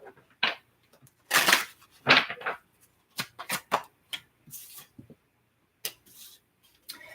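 Tarot cards shuffled by hand in a series of irregular papery riffles and soft slaps, with short bursts separated by brief pauses, close and moderately quiet.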